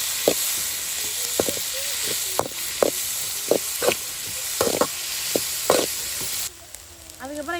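Onions frying in hot oil in a pan at night, a constant hiss with repeated sharp clicks of stirring over it, ending with a brief faint voice.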